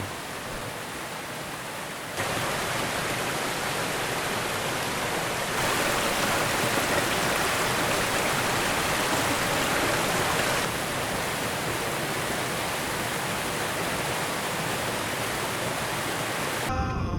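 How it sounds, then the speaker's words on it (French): Small waterfall at a natural hot spring in Iceland, a steady broadband rush of falling water that grows louder after a couple of seconds and holds close and continuous throughout. "une source d'eau chaude naturelle avec une petite cascade comme ça"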